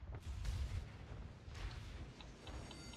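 Secondary gun batteries on warships in World of Warships fire in a string of dull, distant booms with scattered sharper reports, fairly faint overall.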